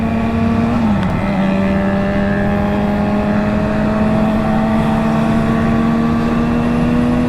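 Kawasaki motorcycles, including an H2 SX, ride past in convoy near Sepang International Circuit during MotoGP 2022, giving a steady, loud engine drone with a sustained tone that dips once and then holds, close and continuous with no talk.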